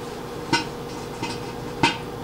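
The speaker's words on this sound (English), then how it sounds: "Turkey bacon pops and sizzles, makes tons of noise, gets all over the place." Turkey bacon cooking in a microwave under a plastic plate cover gives three sharp pops, loud and spaced apart, over a low steady microwave hum.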